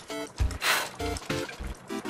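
Urine streams into a toilet in a Plotagon animation, heard as a steady trickle and pour of liquid in several close bursts at moderate loudness.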